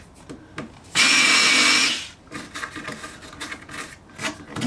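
An Aldi Workzone 3.6V cordless screwdriver with a countersink bit gives one loud, roughly one-second whirring grind, then softer scraping and handling noises.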